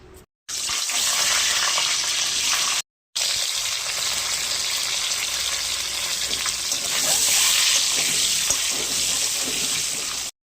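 Eggs frying in hot oil give a steady, loud, broadband hiss and crackle that runs nearly continuously, broken by two brief silent gaps near the start, with no voices.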